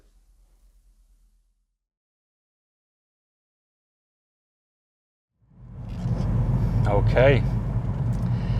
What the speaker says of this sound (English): I'm in the car, I'm driving home